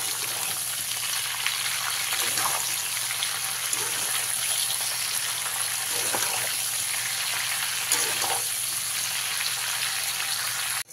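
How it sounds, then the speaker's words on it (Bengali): Mango pieces frying in a pan with salt and turmeric for a sweet pickle, with a dense, even crackling sizzle that runs throughout and a few faint stirring sounds. "দিয়ে আবারও কিছু সময় আমটাকে ভেজে নেব"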